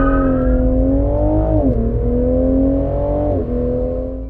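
A Toyota Supra accelerates hard during a 0-150-0 speed test, its engine note climbing loud and close through rising gears, with two quick dips at the shifts before pulling again.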